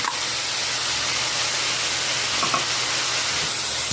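Onion, bean sprouts and tofu sauté in hot oil in a pan for a Filipino stir-fry, giving a steady, close, dense sizzle with faint stirring scrapes and no voices.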